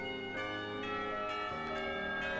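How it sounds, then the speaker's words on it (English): A bell in the Katawa Shoujo visual novel rings with sustained harmonic tones, several struck notes overlapping and decaying over a couple of seconds, clear and alone. "The ring of the bell snaps us both out back to reality"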